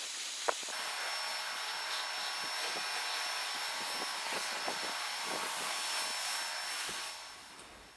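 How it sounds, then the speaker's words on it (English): A pressure washer jet-washes the paintwork and glass of a Range Rover Evoque, making a steady, loud rushing hiss with scattered spatter and ticks of water striking the body, fading out near the end; no talking. "Give all the paintwork and glass a really thorough jet wash now"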